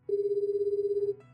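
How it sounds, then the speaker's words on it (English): A cell phone ringtone sounds one sustained electronic tone of about a second, loud and close, with a warbling pulse, then breaks off into a brief higher chime. "the cell phone still ringing in my hand"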